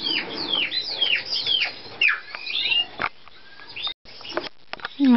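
Pet birds chirp and squawk inside a birdcage, with overlapping sharp calls and whistles close by, scattered rustles and a brief drop to near silence partway through.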